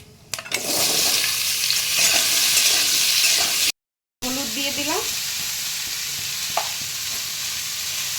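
Hog plums fry in hot oil with panch phoron and dried red chilli for a sweet-sour pickle, a loud close sizzle with stirring that breaks off briefly and returns quieter, under a voice.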